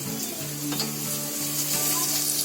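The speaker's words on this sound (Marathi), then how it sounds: "पहिला कांदा आहे ना चांगला लाल होईपर्यंत परतून घ्यायचा." Onions frying in a pan until browned as the base for a gravy, a steady close hiss of sizzling oil with a faint tonal hum underneath, continuous and fairly quiet, with no voices.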